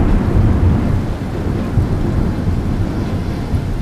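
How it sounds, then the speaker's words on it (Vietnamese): Heavy rain and strong wind roar steadily through a typhoon-strength storm, a dense continuous downpour with low rumbling, loud and close throughout with no speech. "Gió quật ào ạt, mưa trắng đất trời, cây cối đổ nghiêng ngả"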